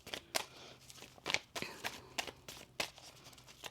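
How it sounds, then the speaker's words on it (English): Tarot cards being shuffled by hand, a run of crisp papery riffles and flicks repeating at a quick, uneven pace close by, with no talking. "One more shuffle."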